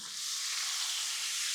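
Shrimp sizzle steadily on a hot Blackstone griddle, a bright, constant frying hiss close by with no talking.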